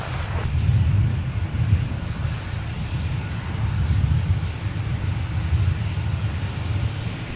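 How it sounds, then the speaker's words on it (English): A Sun Country Airlines Boeing 737-900ER airliner arrives at Minneapolis–Saint Paul airport, giving a steady, broad jet roar with a deep rumble that holds at an even level throughout, with no talking. "And Sun Country coming in with the 737-900ER"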